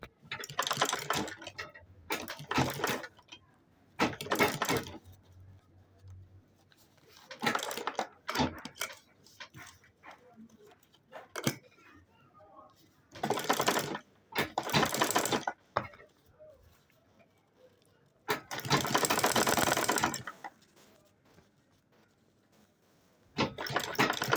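A sewing machine runs in repeated bursts of stitching while sewing around a water bottle bag, its clattering runs starting and stopping several times, close and fairly loud with quiet gaps between.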